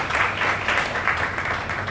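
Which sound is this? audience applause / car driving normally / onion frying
audience applause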